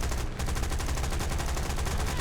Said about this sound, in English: And there goes my cannons